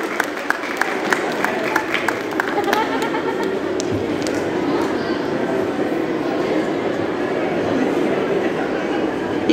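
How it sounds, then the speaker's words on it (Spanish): Audience applause at a Tim Burton fan fest expo, a burst of clapping from a crowd at the start that settles into a dense, sustained crowd roar and murmur. "Un aplauso para Olinka, que está empezando una carrera"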